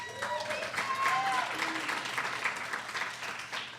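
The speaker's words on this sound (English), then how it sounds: "I like the applause in between them, so keep it up" An audience applauds warmly at the 2017 San Francisco Small Business Awards ceremony, a dense, sustained patter of clapping with voices and cheers mixed in.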